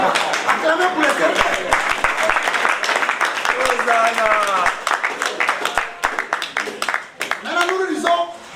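Audience applause at an evening church gathering: dense clapping from a crowd mixed with cheering voices and shouts that carry over it throughout.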